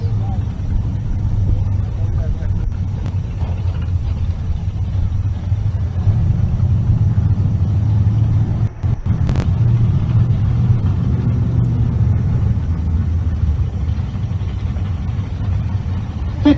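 Drag race cars at Race Week in Pueblo, Colorado, with a Pontiac G8 in the left lane: a sustained loud engine roar and rumble under a commentator's voice, with a brief dip midway.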